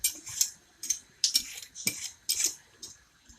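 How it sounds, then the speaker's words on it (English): Potatoes being peeled for a fish pie make a run of about eight short, crisp scraping strokes close by, each a quick separate rasp in a loose, steady rhythm. "Then you need to peel the potatoes."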